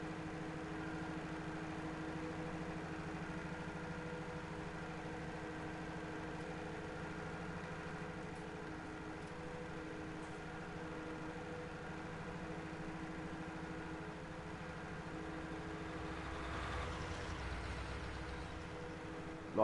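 Tractor engine in Farming Simulator 19 on PS4, a steady droning hum that holds an even, continuous pitch throughout with no talking over it.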